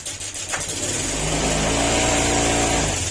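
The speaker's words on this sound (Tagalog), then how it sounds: "Honda Click 125 na maingay yung makina" Honda Click 125 scooter engine with a noisy ticking fault idles, then climbs steadily in revs, a close, continuous mechanical drone with no voices.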